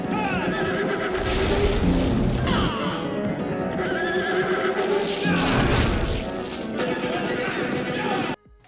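Bandits' horses in a film neigh and whinny loudly over galloping hooves and a dense action-movie soundtrack, with voices mixed in, before cutting off abruptly near the end.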